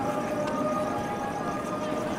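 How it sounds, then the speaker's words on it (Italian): An ambulance siren wails steadily and continuously at moderate loudness. Faint background voices sit under it. "Ma c'è di nuovo l'ambulanza."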